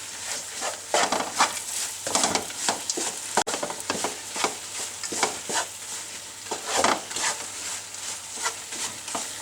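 Halwa with almonds and pistachios being stirred in a pot, with steady scraping and soft sizzling strokes repeating throughout, close and fairly loud, with no talking.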